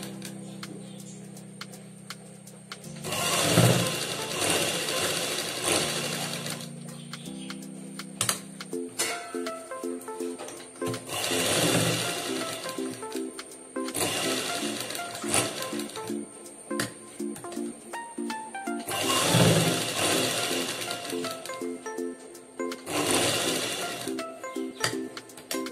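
A sewing machine stitches a simple chudi neck in several long, steady runs of rapid mechanical chatter, separated by quieter pauses, close and clear.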